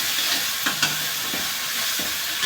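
Softened tomatoes cooking in a pan for a bhaji, a steady hiss of simmering with a few soft stirring scrapes, close and even.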